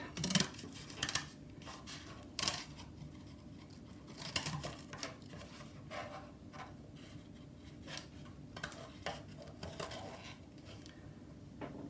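Scissors cutting out a cardboard heart shape: soft, irregular snips and crisp paper-like clicks, fairly close and quiet, with short pauses between cuts and no voices.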